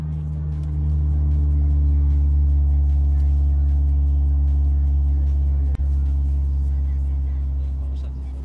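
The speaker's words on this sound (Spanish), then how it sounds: "Es el coche que suena." A Seat Cupra car engine drones in a loud, steady low rumble with a strong hum throughout, briefly interrupted by one sharp knock partway through, with no voices over it.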